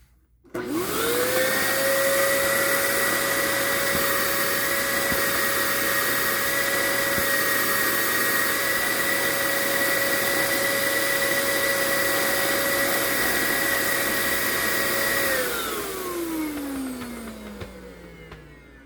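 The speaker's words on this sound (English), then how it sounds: "Okay, so now I'm going to run it with the turbo head." An old Dyson vacuum cleaner with a turbo head running steadily at a loud, high whine for about fifteen seconds, then spinning down with a falling pitch as it is switched off.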